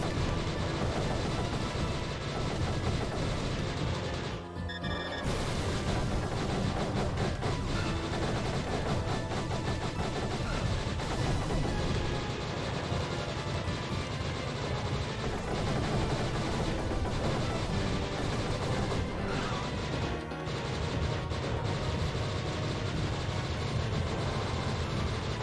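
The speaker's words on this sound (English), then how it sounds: "You just gotta shoot his projectiles." Projectile shooting in a Sega Saturn video game: a dense, continuous barrage of rapid-fire blasts and explosions, loud and sustained with brief dropouts, no talking.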